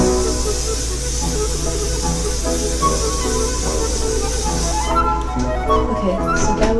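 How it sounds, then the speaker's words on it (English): A steady aerosol hiss of cooking oil spray onto a pan runs for several seconds over outdoor background noise, then cuts off near the end. "I'm just going to pre-spray it with some cooking oil."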